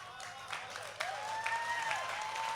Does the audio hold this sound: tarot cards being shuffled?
no